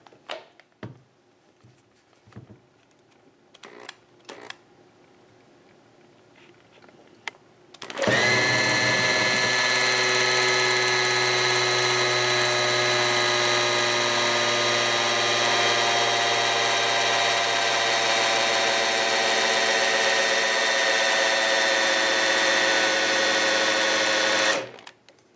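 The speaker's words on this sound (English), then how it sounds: "You can hear the drill load down. This is a big half-inch drill" Big half-inch electric drill spinning to prime an engine's oil pump, a few faint knocks first, then a loud sustained whining drone that holds steady under load for about sixteen seconds before cutting off, no voices.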